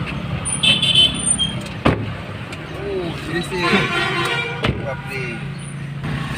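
A cab car rolls up nearby on a street in Guwahati, its engine and tyre noise steady and fairly loud, with a couple of sharp knocks and a brief horn-like tone, while people talk over it.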